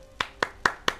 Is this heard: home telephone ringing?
no